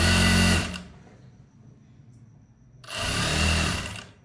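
A sewing machine runs in two short bursts, stitching piping onto folded cloth, with a quiet pause between runs and no talking.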